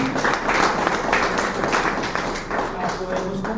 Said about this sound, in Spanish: Fíjense que la intervención de Ernesto que merece aplauso.